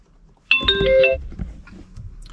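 AWESAFE CarPlay and Android Auto car screen plays its startup chime when switched on, a short bright sequence of electronic tones lasting about a second, followed by faint background noise.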